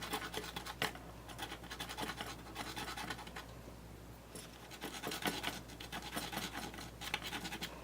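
Steady, close scratchy rasping as paper clay on a frog sculpture is sanded through a fabric abrasive, continuous strokes with brief louder scrapes, no talking.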